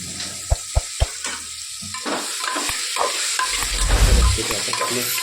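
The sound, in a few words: stirring peas, potato and brinjal frying in tempering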